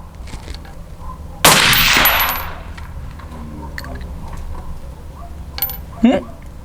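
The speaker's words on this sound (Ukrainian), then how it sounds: "Клікаємо ОК і робимо постріл." A single sharp, loud rifle shot cracks out with a brief ringing tail, fired at a 50-metre zeroing range through a ThermTec Ares 360 thermal scope, followed by quieter clicks and a faint metallic clink.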